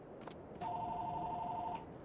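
A telephone ringing in Farming Simulator 22, one steady electronic trill lasting about a second, fairly quiet against low background noise.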